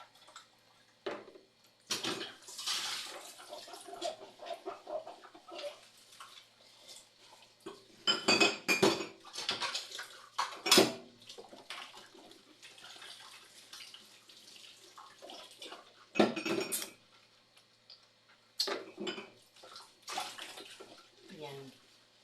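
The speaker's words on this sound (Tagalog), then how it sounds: "Hugasan ko muna ang kinainan ko." Dishes and eating utensils washed by hand in water after a meal, with scattered clinks of plates and cutlery and splashing bursts between quieter pauses, some faint voices in the background.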